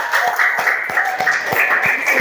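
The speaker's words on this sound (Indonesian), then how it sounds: "beri tepuk tangan untuk Azwar." An Indonesian school classroom breaks into applause, a quick even run of claps, moderately loud with no voices over it.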